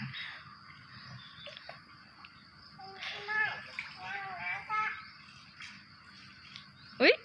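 Water splashes as people swim in a resort pool. Irregular sloshing comes in bursts, with one sharp splash near the end, under frequent children's voices and chatter.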